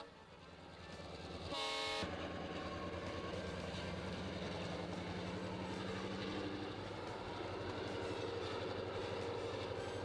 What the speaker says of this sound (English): as you can see, the locomotives pull hard to bring this consist up to the top of the Albany Loops